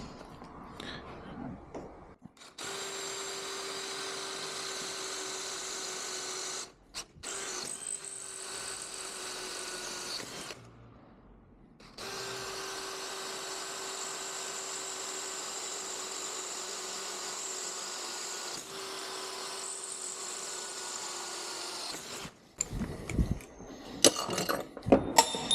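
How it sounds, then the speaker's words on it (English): A power drill bores into the lock fitting of a steel and metal storage cage, a steady close whine running in long stretches broken by brief pauses, with clattering handling noise at the end. "Need a couple of drill bits."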